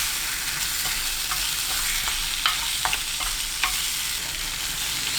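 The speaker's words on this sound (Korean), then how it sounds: "바로 감자 넣고 20초 볶아주세요." Potatoes stir-fry in a pot with doenjang, chili flakes and mirin for a tuna gochujang stew, making a loud continuous sizzle broken by repeated spatula scrapes and taps.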